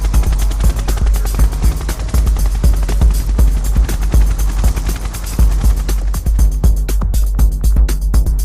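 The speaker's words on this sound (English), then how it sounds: "and various helicopters from Singapore" Helicopters flying during a disaster relief training exercise involving Singaporean helicopters and Indonesian planes, a loud, steady, rapid rotor chop with deep thumping that continues throughout.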